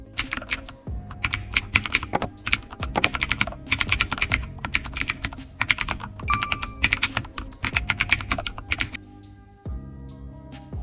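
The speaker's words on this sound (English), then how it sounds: "type your first line of code" Steady bursts of rapid typing on a computer keyboard while writing a first line of Python code in an editor, clicky keystrokes in quick runs with brief pauses between, close and clear with no talking.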